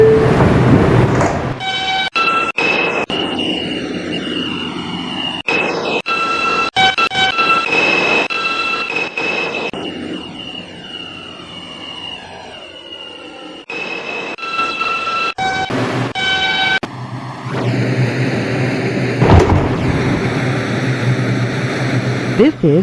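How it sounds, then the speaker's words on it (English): An R142 subway train on the 2 line bound for Wakefield running through stations, with loud rumbling, squealing and whining motor tones rising and falling, rapid clicks and sliding doors, and recorded announcements over the noise. "This is a Wakefield-bound 2 train."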